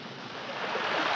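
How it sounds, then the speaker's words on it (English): A brief wash of surf, a soft rushing swell of ocean water that builds slightly in loudness over about a second. "The ocean!"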